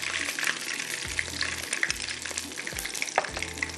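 Curry leaves and fenugreek seeds crackle and sizzle in hot oil for a dal, a steady bright frying hiss close up with a few sharper pops and occasional low stirring knocks, with no voices.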